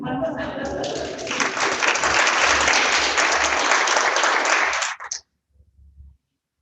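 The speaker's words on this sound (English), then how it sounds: "Did you hear the applause? Should we do it again?" Loud, dense applause from a crowd sustains for about five seconds, then cuts off abruptly, leaving near silence.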